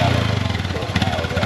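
A motorcycle engine runs close by with a rapid, pulsing putter, steady and fairly loud through the short stretch.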